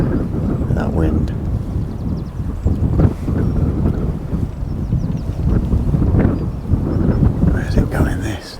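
Strong gusting wind buffets the microphone beside a fishing lake during a match fishing festival, a loud, uneven roar throughout with a few low thumps.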